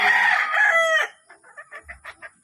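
Backyard pet chickens make a rooster-like crow lasting about a second, followed by a quick series of five or six short, close clucks.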